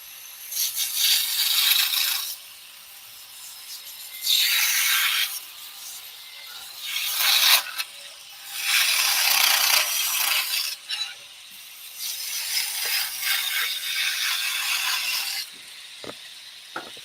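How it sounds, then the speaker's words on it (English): A skew chisel cuts backwards on wood spinning on a lathe, giving repeated bursts of hissing, scraping shavings, several strokes separated by quieter spinning gaps, close and without talk. "The other thing that you can do with a skew chisel is actually cut backwards as well"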